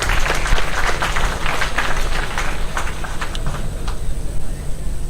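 A conference audience claps in a round of applause for an honored speaker, dense loud clapping mixed with rumbling room noise and scattered sharp claps that thin out toward the end.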